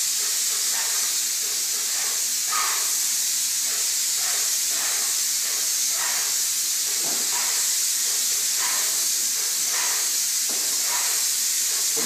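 A paint sprayer fitted with a finish tip hisses steadily as it coats interior varnished doors indoors, a loud continuous spray with faint pulsing from repeated passes.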